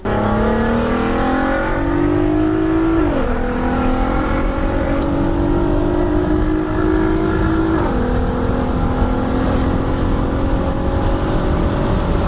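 An Audi TT engine roars steadily, its pitch climbing through gears with brief dips at each shift, loud and close throughout.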